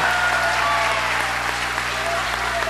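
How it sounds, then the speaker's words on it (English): Audience at a gubernatorial debate applauds continuously, a broad, even wash of many hands clapping filling the room without pause. "let's just stand up and give Lieutenant Governor Mike Cruz a round of applause for doing the impossible"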